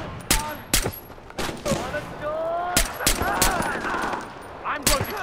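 Gunfire in the video game Far Cry 4: sharp, loud shots and short bursts come in an uneven rhythm, with rapid automatic fire in the middle and quieter shots in the background.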